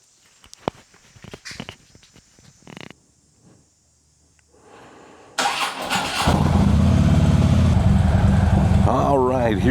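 A car pulling an old trailer cranks and starts: a few scattered clunks and quiet shuffling, then the engine catches with a loud burst and settles into a steady, close idle rumble.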